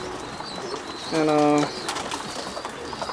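Racing pigeons cooing inside a loft, one clear low throaty coo rolling out at mid-loudness over a bed of rustling and background bird noise, with someone briefly speaking nearby.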